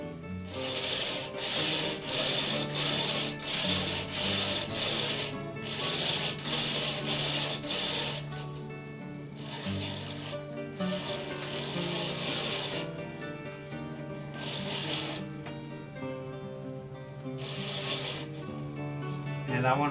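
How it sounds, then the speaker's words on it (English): Rhythmic rubbing as semi-sealer is worked onto a spinning wooden lid on a lathe, a rasping swish pulsing about every second over the steady hum of the machine, close up. "Apply a little bit of semi-sealer to that."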